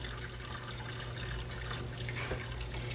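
Homemade vegetable stock made from scraps pours steadily through a strainer into a pot, a continuous splashing, trickling rush of liquid, close and fairly loud, with no talking.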